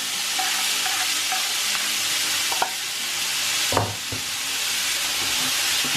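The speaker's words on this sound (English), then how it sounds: "you want to make sure that you're doing this on high flame, because you're not steaming, you're frying. You're stir frying really" Chicken breast, quinoa and corn stir-fry on a high flame: a loud, continuous sizzle and hiss, with a few scraping stirs of the pan, close by and with no voices.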